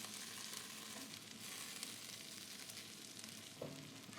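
Potatoes sizzling on an infrared grill running near 1500°F, a steady soft frying hiss all the way through with a faint scrape of stirring near the end and no voices.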